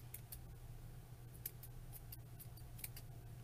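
Scissors trim loose beard fiber for a 21-inch Dollar Tree sock gnome, producing a run of faint quick snips over a steady low background hum.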